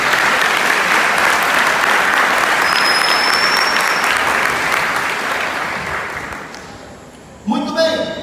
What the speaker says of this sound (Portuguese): Quem compreende isso, dê uma salva de palmas ao Senhor